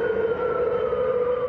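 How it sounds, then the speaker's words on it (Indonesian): A loud, steady siren, set off accidentally, wails continuously, holding a sustained tone with no pauses and no voices. "dipastikan merupakan sirena yang berbunyi secara tidak sengaja."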